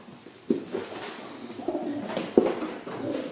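Racing pigeons in a breeding loft cooing softly, a steady low murmur of several birds close by with a couple of sharper coos standing out.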